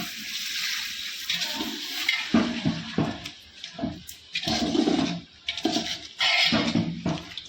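Water poured into a cooking pot of meat splashes and pours in uneven bursts, with brief pauses between pours and some clattering of metal, fairly close and moderately loud.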